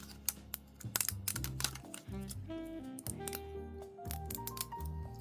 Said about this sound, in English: when you run it through your die cutting machine up and down versus across, I just find it cuts better